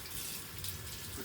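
Cold water running from a camper sink faucet fed by city water pressure, a steady close splashing flow that stays even throughout the short moment, with no talking over it.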